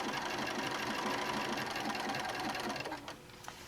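Sewing machine stitching a baby quilt with dinosaur appliqués, a fast steady mechanical chatter close by that slows and stops near the end with a couple of faint clicks.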